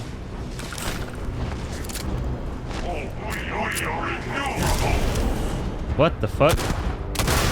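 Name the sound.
gunfire in the video game Starfield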